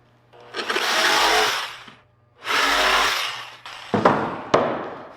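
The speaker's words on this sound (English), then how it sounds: "you're gonna grab your jigsaw" A jigsaw cuts through a cedar board in two long, loud buzzing passes separated by a short pause, followed by a couple of brief bursts as the cut finishes.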